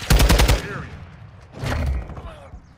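Video game gunfire in a chaotic 10v10 Dome match, a sharp rapid burst of shots at the start and another short volley later, loud and close, with a voice speaking between them.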